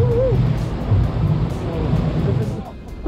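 Loud, close rushing water and wind roar on the Poseidon water ride at Europa-Park, a steady broad wash without distinct individual splashes.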